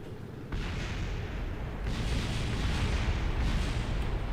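Parts of a tumbling spacecraft exploding in Kerbal Space Program, a continuous rumbling roar of blasts with a sharp onset and repeated surges, fairly faint and steady throughout.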